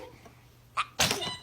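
Baby sneezing, a small sharp intake followed by one close, bright little sneeze against a quiet room.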